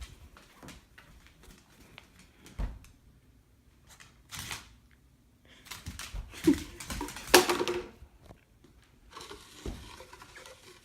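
A French pit bull and American bulldog mix plays with a cardboard toilet paper roll, making intermittent crinkling, crushing and tearing bursts with quiet pauses between, close and fairly loud.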